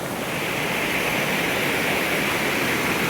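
A small waterfall pours off a cliff along the Cascade River in Superior National Forest, a constant, loud, broadband rush of falling water with no pauses.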